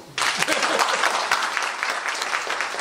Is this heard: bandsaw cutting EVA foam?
no